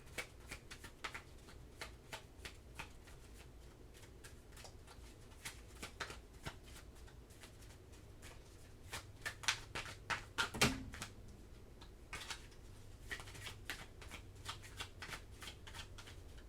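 Tarot cards being shuffled by hand over and over, a steady run of crisp riffling flutters with soft slaps and clicks from close by, and no voices.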